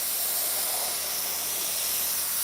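Steady, loud hiss of spray painting onto metal skirts for a 1960 El Camino in a Raiders colour pattern, continuous broadband spray with no pauses and no talking.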